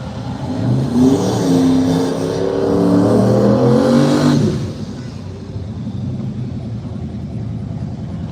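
Drag race cars, an old Chevy SS against a black Fox body Mustang, roar loudly as their engines rev and climb in pitch for about four seconds, then drop to a lower, more distant rumble with faint crowd noise.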